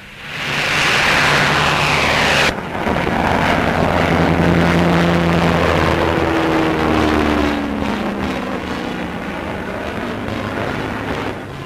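The twin engines of a Bristol Beaufighter roar loudly as the aircraft passes close by, with a steady propeller drone and a pitch that shifts downward as it moves away.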